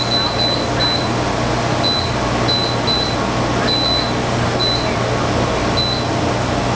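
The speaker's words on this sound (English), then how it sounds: "It's changing its own temperature." An air conditioner that keeps changing its own temperature setting gives short, high electronic beeps in irregular pairs and clusters over a steady droning hum, while someone talks nearby.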